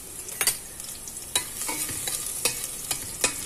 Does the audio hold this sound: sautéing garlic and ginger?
yes